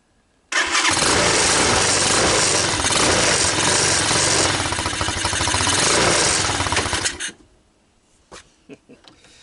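A Tao Tao ATA200D ATV engine roars loudly and steadily for about seven seconds, then cuts out abruptly as it stalls, leaving a few faint clicks and knocks behind.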